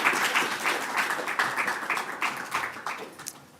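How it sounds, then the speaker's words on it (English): A conference audience at a Stanford Data Science event breaks into a round of applause, dense overlapping clapping from a room full of people that holds steady, then thins and tapers toward the end. "if you can just round of applause to motivate them to come on stage."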